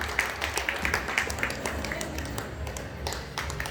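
Audience at a gathering claps steadily in a quick rhythm of sharp, moderately faint hand claps, with a murmur of voices underneath throughout.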